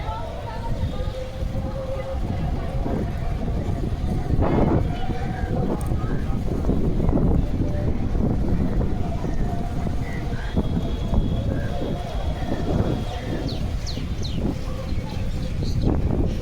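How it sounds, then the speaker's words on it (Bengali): A passenger launch boat approaches across the water near New Kolkata, its steady engine drone and churning water heard close under constant loud wind buffeting throughout. "ওখানে একটা লঞ্চ আসতেছে"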